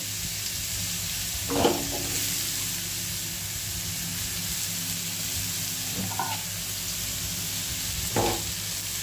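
Pointed gourd peels stir-fry in hot oil with cumin over a low flame, giving a constant close sizzle. Three spaced scrapes of a spoon against the pan break through it.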